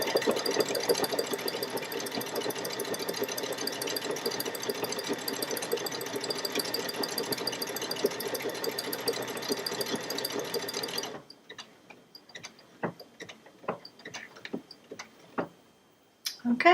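A Baby Lock Solaris 2 sewing machine stitches steadily at high speed for about eleven seconds, a dense continuous whir with fine rapid ticking, then stops, leaving scattered faint clicks and small handling taps.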